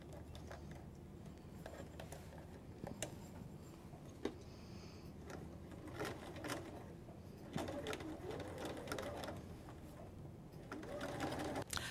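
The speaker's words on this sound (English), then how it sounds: "So I'm going to stitch across the top, all the way around the piece" A sewing machine top-stitches across a kitchen towel, a faint, steady rapid ticking hum running throughout with soft knocks and handling noises, quiet and close with no talk.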